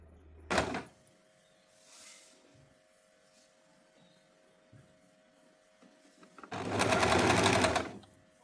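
Sewing machine stitching pleated net fabric for a dress, with a short motor burst near the start and a longer, louder run of rapid stitching toward the end, quiet handling in between.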